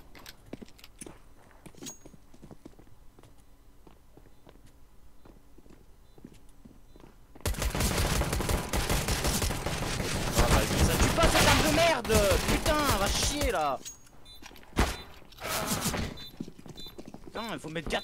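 Gunfire in Counter-Strike Global Offensive breaks out halfway through after quiet footsteps, with loud dense bursts of shots and a few trailing single shots toward the end, mixed with faint talk.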